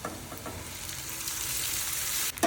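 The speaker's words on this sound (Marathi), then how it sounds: "बटाटा फ्राय झालेला आहे, आता याच्यामध्ये साबुदाणा टाकून घ्यायचं" Potato pieces and sago pearls fry in a hot pan for sabudana khichdi, giving a steady close sizzle with light stirring scrapes and a brief clatter near the end.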